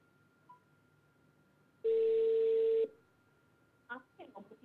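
A telephone busy tone after a call is cut off: one steady electronic beep lasting about a second, loud and clear over a faint background hum, followed by a short burst of talk.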